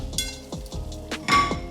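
A jicama tortilla is set on a plate in a home kitchen, producing several sharp clinks and clatters of dishes and utensils in quick succession at close range.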